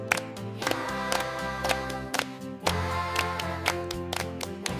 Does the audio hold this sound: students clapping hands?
yes